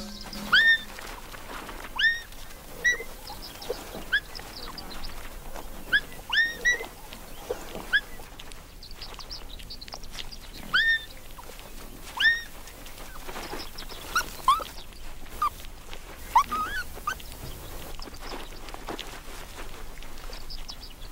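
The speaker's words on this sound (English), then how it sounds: "The jackal has a den nearby, with her own young to care for. 3 pups are waiting to be fed." Three jackal pups at their den give repeated short, high whimpers and squeaks in scattered bursts over a quiet outdoor background, fairly close and with no talking.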